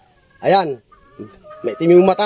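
A gamefowl rooster clucks and calls in loud, close bursts, interleaved with someone talking over it.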